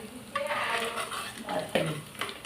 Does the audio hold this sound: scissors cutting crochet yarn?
no